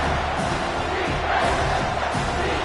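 A college football stadium crowd roars and cheers in a sustained, dense wall of noise, loud and continuous, with faint voices mixed in.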